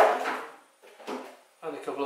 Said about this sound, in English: Which opens up the back and reveals a set of drawers